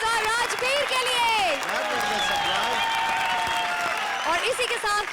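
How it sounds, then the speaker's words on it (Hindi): An audience at a Hindi comedy show applauds in a steady wash of clapping that lasts several seconds, with music and voices layered over it. "जोरदार तालियां विनोद और राजवीर के लिए"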